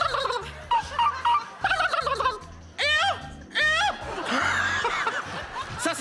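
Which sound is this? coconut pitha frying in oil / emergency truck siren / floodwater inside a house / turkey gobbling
turkey gobbling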